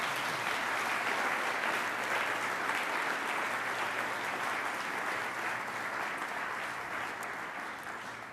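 A church congregation applauds at a Sunday service, a dense, sustained wash of clapping that holds steady for several seconds and eases off slightly at the end.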